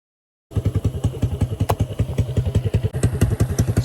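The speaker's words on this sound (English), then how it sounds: "So you got the old CRF 110, 26 millimeter carb, I think." Honda CRF 110 pit bike with a 26 mm carb and open filter, its small single-cylinder engine chugging in a steady, rapid pulsing rhythm close by, loud and uneven, with a brief revving swell near the end.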